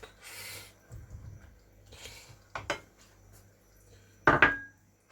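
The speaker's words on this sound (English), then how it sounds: "So while it's doing, I'm going to put in the potatoes, I think." Potatoes drop into a pan of simmering lamb curry with a few scraping, clattering knocks and a sharp metallic clink near the end, close and fairly quiet.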